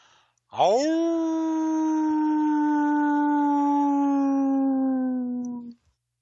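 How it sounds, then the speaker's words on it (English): A hound dog gives one long, loud howl up close, rising at the start, holding a steady pitch for about five seconds and then breaking off abruptly. "Now that was a hound dog howl."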